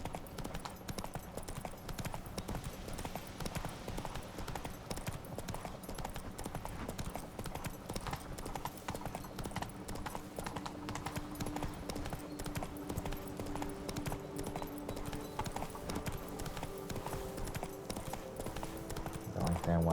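Roach the horse galloping in The Witcher 3, a rapid, steady clip-clop of hooves running throughout, with a player talking over it.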